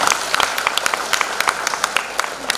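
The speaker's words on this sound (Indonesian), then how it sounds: "Makanya tepuk tangan untuk Kabupaten Blitar ini." Audience applause at a political education outreach event for legislative candidates in Blitar Regency, Indonesia, in 2019: a steady wash of dense clapping from a hall crowd, with sharper individual claps popping out, lasting throughout.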